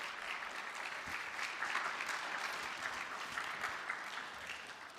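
Steady audience applause in an indoor hall as judges of a tech pitch competition are introduced, a continuous even patter of clapping at moderate distance with no talk over it.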